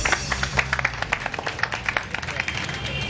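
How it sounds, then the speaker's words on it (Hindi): A crowd applauds a television morning-show guest with brisk, scattered clapping that continues throughout, with some voices underneath. "बहुत सारी तालियां"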